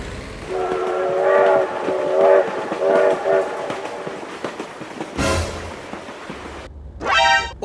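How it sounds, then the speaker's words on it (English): A passing train sounds several loud, close horn blasts over a rumbling roar, followed by a sudden noisy burst and a short rising tone. "Oh my god, train!"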